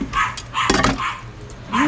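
A dog barks in a few short bursts at close range, spaced through the moment, with low background noise and no talk.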